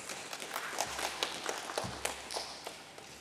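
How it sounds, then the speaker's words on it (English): A small audience at a company's stock exchange listing ceremony claps in scattered, fairly faint, irregular bursts, sparse hand claps with some background shuffling. "Please welcome him with a round of applause."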